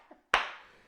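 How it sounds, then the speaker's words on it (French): A man claps his own hands once, a single sharp, close clap ringing briefly in a quiet room after a faint murmur. "je m'applaudis moi-même"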